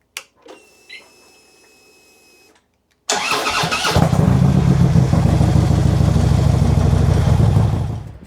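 A Harley-Davidson motorcycle is started for a ride: a few faint clicks and a soft electronic tone, then a sudden loud engine catch that settles into a steady, deep, rumbling idle nearby, with no talking.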